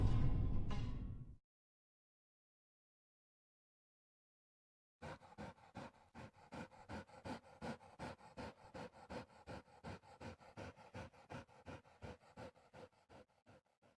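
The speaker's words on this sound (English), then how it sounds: "That's a damn cane corso." A cane corso in a video game pants heavily and rhythmically at close range, in quick regular breaths that go on for about nine seconds. A loud burst of noise cuts off into silence just before the panting starts.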